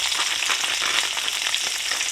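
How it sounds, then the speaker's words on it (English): Pepper and onion stir fry sizzles steadily in a pan alongside sausage, a close, continuous bright frying hiss with faint crackles and no talk. "I'm going to toss in some of my pepper and onion stir fry"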